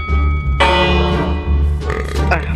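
A doorbell rings, a bright, sustained chime with rich ringing overtones, loud and close, fading slowly over a low hum.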